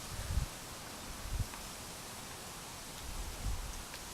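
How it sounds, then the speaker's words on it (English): Strong, sustained wind gusting during a Christmas morning nor'easter storm roars as steady broadband noise, with a few heavier low buffeting gusts hitting the microphone. "Winds have increased pretty good. Very sustained now, about 20 miles an hour perhaps."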